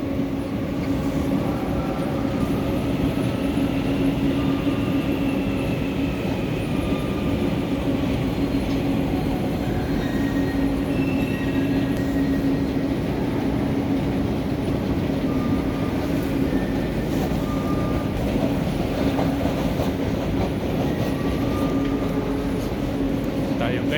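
A train rumbles steadily and loudly nearby, with a continuous rolling drone and faint squeals and clatter throughout.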